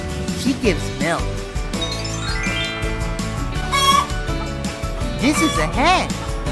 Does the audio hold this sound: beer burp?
no